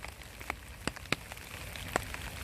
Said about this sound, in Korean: 비가 오고 있습니다 봄비가 와서 너무 감사합니다